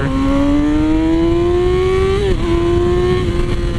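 A Yamaha R6 sport motorcycle with two modifications accelerates hard in third gear, a loud, close engine whine rising steadily in pitch, with a brief dip before climbing on.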